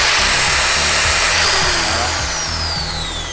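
A DongCheng JIZ-FF05-10A pneumatic wood dowel drill runs with a loud, close air-driven whine and hiss over a low pulsing hum, tapering off slightly at the end.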